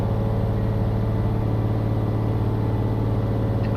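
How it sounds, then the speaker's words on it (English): A heavy truck engine in Euro Truck Simulator 2 strains at high revs, a loud, constant droning hum with a steady harmonic whine and no break or talking. "Oh, listen to that engine. Oh, it's screaming."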